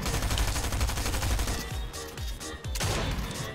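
Rapid gunfire in Fortnite Chapter 3, a dense continuous burst of shots at close range, followed by several separate heavier booms toward the end.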